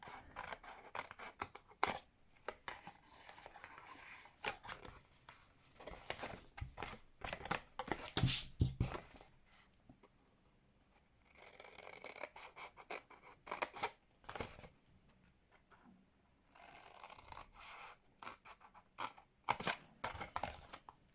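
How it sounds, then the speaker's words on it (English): Scissors cut Stampin' Up cardstock box flaps in a quiet room, crisp close snips and slicing strokes in bursts separated by short pauses, with no talking. "So these are the flaps for the bottom of the box, and we'll just cut up those."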